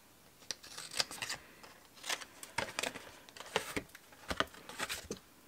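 A pair of craft scissors snips while making a stacked-box decoration with trailing flowers. Several quick, quiet, close-up snips come in small bursts against a near-silent background.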